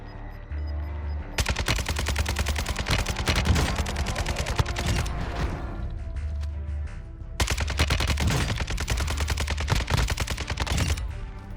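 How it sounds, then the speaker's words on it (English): Automatic rifle fire from an RPK in Warzone 2.0, with two long sustained bursts of rapid shots, loud and close, separated by a short lull with distant pops. "I see where the shots came from"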